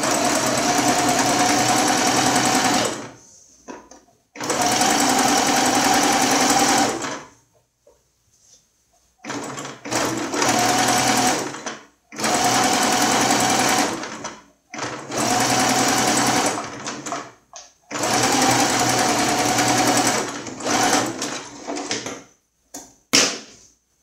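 A sewing machine stitches the lining of a baby toiletry bag with a wipes pocket in repeated loud, close runs of fast whirring, separated by short pauses with small handling noises.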